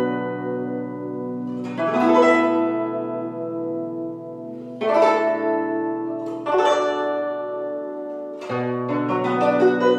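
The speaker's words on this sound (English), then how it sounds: "Now let's talk about a more advanced technique called arpeggio. Arpeggio sounds like this." On a guzheng, plucked strings ring out in rolling arpeggios. Several clusters of rapid successive notes rise over sustained, resonant string tones, alone and close.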